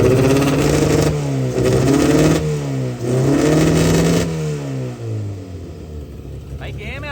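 A K24 turbo all-wheel-drive car engine revs hard in repeated rising and falling sweeps, loud and close, with a steady mechanical roar between the revs.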